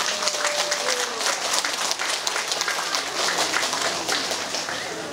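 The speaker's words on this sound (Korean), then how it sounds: "크게 박수 한번 보내주십시오" Applause from a crowd at a festival for butterfish in Sinan, South Korea, thanking the fisheries cooperative head: steady, dense clapping that holds at an even level for the whole stretch, with no talk over it.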